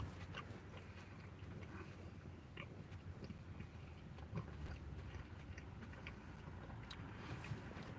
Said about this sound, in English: You should be able to hear it crunch when I chew. It's not crunching.